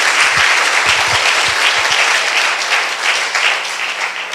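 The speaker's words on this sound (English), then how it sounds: "Let's give a big round of applause to everyone." A Sunday service congregation breaks into a big round of applause, dense and loud clapping that holds steady throughout with no talk over it.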